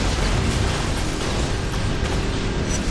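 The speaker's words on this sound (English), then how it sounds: "I'm just gonna throw some bombs." Rumbling bomb explosions in the InFamous video game, a dense, continuous low roar of blasts with scattered pops, moderately loud and steady throughout, no talking.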